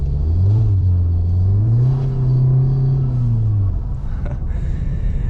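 A tuned Volkswagen Golf R in Eco mode drives through blizzard snow, its engine rumbling and rising and falling in pitch with throttle, heard close from inside the car with no talk.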